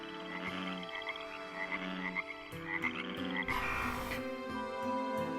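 Frogs croak in a steady chorus, with overlapping repeated calls, loud and close, and no voices over them.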